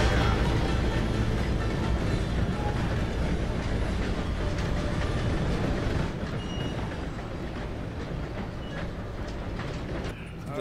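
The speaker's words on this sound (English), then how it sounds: "Gotta beat that train, Morgan." A train rumbles past in Red Dead Redemption 2, a loud, steady broadband roar with rail clatter that eases slightly partway through, with voices over it.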